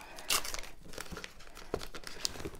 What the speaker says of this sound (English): apparently I can't rip it open